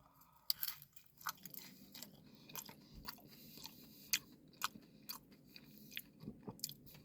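Crunchy chewing of a homemade Taco Bell-style Mexican pizza, two layers of tortilla with beans, meat and cheese, heard close to the mouth as repeated crisp bites and munches in an irregular rhythm, with no talking.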